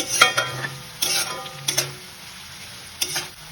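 Hard carrot pieces frying in a pan, with a light sizzle under sharp, spaced scrapes and taps of a spatula on the pan, about four distinct strokes, close and without voices.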